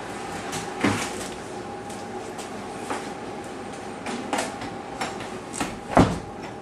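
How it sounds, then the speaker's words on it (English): A door shuts with a few knocks and rattles, ending in a firmer thump, over a steady mechanical background hum. "I'm just gonna close this door here because it's making a lot of noise"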